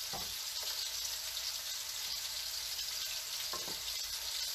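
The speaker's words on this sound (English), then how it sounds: "All I want to do with these lamb steaks is turn it up. I want to get a little more sear going." Lamb steaks searing in a hot pan, a steady close hiss of sizzling fat with a couple of brief crackling spatters, alone without talk.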